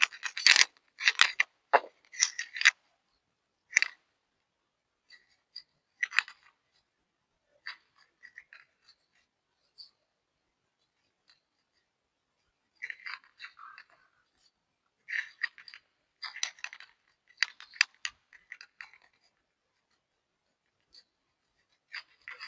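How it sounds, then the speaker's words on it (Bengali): Spices are ground on a grinding stone in short bursts of faint rubbing and scraping strokes, separated by quiet gaps. "আবার আমি একটু করে বেটে নেব"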